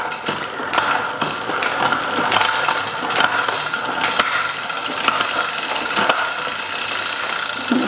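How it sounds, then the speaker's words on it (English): A SRAM AXS electronic derailleur on a bicycle shifts through a couple of gears, making sharp clicks and whirring chain ratchet sounds. The clicks come repeatedly at close range over a steady mechanical whir. "So I'm just doing a couple of gear changes just to see how it's changing."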